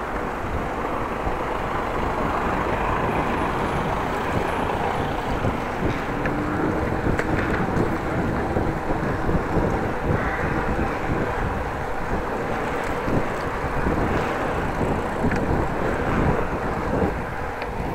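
Strong wind buffets the microphone continuously while cycling outdoors through a city in mild weather, a dense roaring rumble with no speech.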